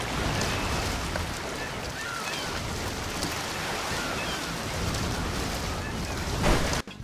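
Ocean waves as a loud ambient environmental track in a racing video game, a constant close wash of surf and wind noise that holds steady for several seconds before cutting off abruptly.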